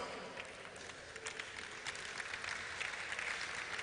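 Event audience applauding contestants as they walk up to the stage, steady clapping building slightly in loudness and heard at a moderate distance in a large hall.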